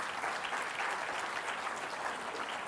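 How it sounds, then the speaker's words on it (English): A large audience claps steadily in a round of applause for participants at the Chinnikrishnan Innovation Awards ceremony, a dense, even wash of many hands held at a constant loud level throughout. "For all the participants, can we give them a nice big round of applause?"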